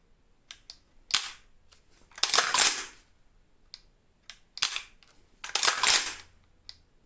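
A KWA LM4C PTR gas blowback airsoft rifle is fired indoors. Sharp trigger clicks are followed by loud, crisp shots with a metallic bolt clack, in two separate groups with quiet clicks between them.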